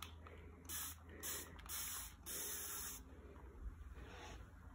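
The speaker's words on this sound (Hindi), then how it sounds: "इस प्लांट को भी स्प्रे कर देते हैं।" Repeated short hissing bursts from a hand-pressed spray bottle misting water onto houseplants, several spritzes in a row, close and fairly loud with no talking.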